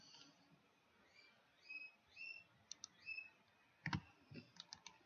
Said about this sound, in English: I can hear my bird in the background just being obnoxious.